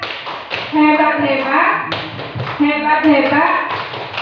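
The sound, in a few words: "tepuk hebat" group clapping routine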